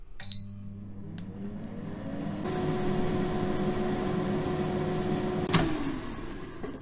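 An oven set to 200 degrees for roasting eggplants starts up after a beep or two, then hums with a steady motor drone and fan whir, ending with a sharp click.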